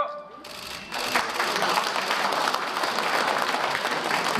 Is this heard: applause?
yes